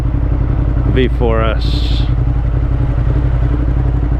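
A Ducati Monster motorcycle engine drones steadily throughout a crosstown ride, a loud continuous low rumble, with a voice briefly speaking over it near the start.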